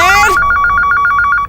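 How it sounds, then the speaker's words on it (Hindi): A telephone rings in a Hindi TV drama household: a repeated electronic bell tone pulsing in a steady rapid rhythm, loud and close, following a brief burst of voice at the start. "देखना किसका फोन है"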